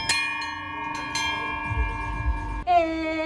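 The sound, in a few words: ringing the PB bell at Copenhagen Marathon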